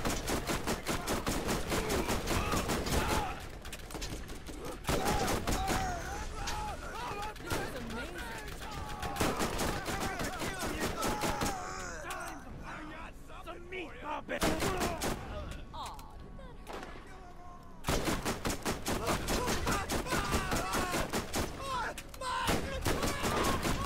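Rapid gunfire from a fire-element gun in Borderlands, Remastered DLC, rattles in bursts amid game effects and explosions, with brief pauses and a voice talking over parts.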